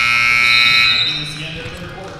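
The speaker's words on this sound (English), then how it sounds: "Three at the buzzer." A basketball game clock buzzer blares loudly and steadily for about a second at a high school holiday tournament game, then gives way to rumbling crowd noise in the gym.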